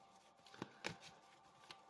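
Tarot cards being shuffled by hand, a soft close riffle with a few sharp flicks and papery rustles over a steady faint background hiss.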